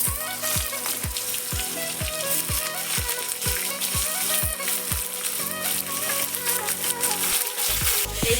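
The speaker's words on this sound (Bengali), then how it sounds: "ভালো করে ভেজে নেব।" Cubed potatoes, eggplant and pumpkin frying in oil in a pan with dried red chilli and five-spice tempering, a steady close sizzle with regular stirring knocks against the pan, loud and continuous.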